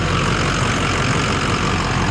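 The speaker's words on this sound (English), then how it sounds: "Might be a little louder though with the engine on." 2005 Ford F250 diesel 4x4 idling close by, a steady low rumble with an even, unbroken drone and no talk over it.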